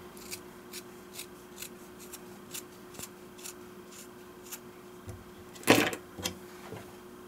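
Quilt fabric is trimmed with scissors during double foundation piecing: a series of soft, evenly spaced snips close by, followed by a louder rustle of fabric being handled.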